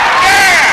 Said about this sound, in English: This crowd's fired up from MG.